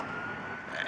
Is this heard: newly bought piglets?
no